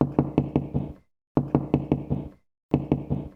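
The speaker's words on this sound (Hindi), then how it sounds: "घर का दरवाजा कोई बिना एक सांस लिए बजाए जा रहा था।" Knuckles rap on a house door in three quick bursts of about five knocks each, loud and close, separated by short pauses.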